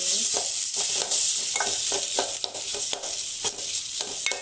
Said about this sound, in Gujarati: ચમચાની મદદથી અહીં દબાવીને મિક્સ કરી લેવાનું છે